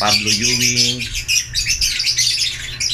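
A pet bird of a breeding stock sings and squawks steadily, bright high chirps running throughout with a few lower tonal notes at the start, close and clear.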